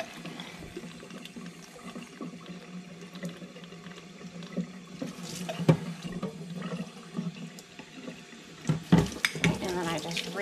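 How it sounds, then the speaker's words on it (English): Running water splashes and gurgles through a milking line of a bucket milker being rinsed, with clattering handling noises and a voice speaking now and then. "And then I just rinse my line like that."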